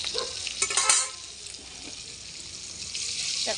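Green and red chillies with nigella seeds hitting hot oil give a brief burst of crackling and stirring at the start, then fade to a quieter, hissing simmer.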